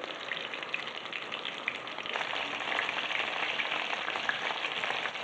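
Minced meat meatballs fry in a pan with a dense, continuous crackling sizzle that grows slightly louder partway through, heard up close with no talk.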